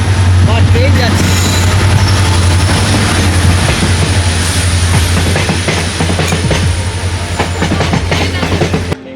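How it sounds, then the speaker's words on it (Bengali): A train rolls past close by with a loud, steady rumble and a continuous low drone, with clattering over the top and voices faintly mixed in. "ট্রেন যাচ্ছে।"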